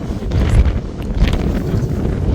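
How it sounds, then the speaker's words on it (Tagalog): Strong wind on the summit of Mount Yushan (Jade Mountain), Taiwan, at 3,952 m buffets the microphone in loud, rumbling gusts, roaring continuously with no other clear sounds. "Lakas ng hangin dito"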